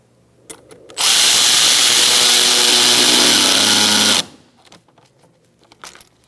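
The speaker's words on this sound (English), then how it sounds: "now we're going to tighten up our hose clamp" A power tool whirs loudly and steadily for about three seconds while tightening a hose clamp at the mass air flow sensor of a 2012-2018 Ford Focus, with light handling clicks before and after.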